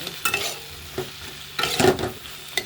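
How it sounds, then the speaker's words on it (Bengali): Okra and onion fry in a pan on a gas stove. A spatula scrapes and stirs in bursts over a steady sizzle, close and moderately loud, with no talking. "পেঁয়াজটা ভাজা গেছে, ভেন্ডি নুনটা একবার দিয়ে দিলাম"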